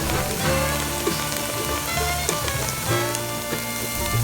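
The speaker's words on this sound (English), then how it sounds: "Add the onions. Allow them to cook until they become translucent." Onions frying in a pan while making Southern collard greens, a steady, close crackling sizzle that continues without a break, with no talk over it.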